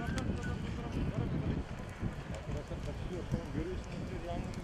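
Strong, cold wind roars across an open hillside during a forest fire at Ovacık in Karabük. The rushing gusts sound loud and continuous, with muffled voices faintly mixed in.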